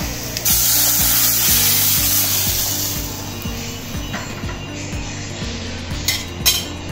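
Tamarind mixture pours into a pan of sautéed shallots, giving a loud hiss and sizzle that fades gradually, with metal utensils clinking and scraping against the pan.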